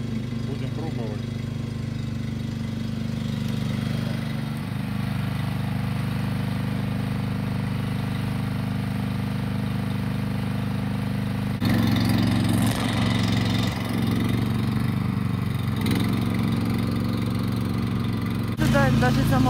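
A small motorized mower engine, Italian-made Ferrari, runs steadily with a droning hum, its pitch shifting slightly as it revs up partway through.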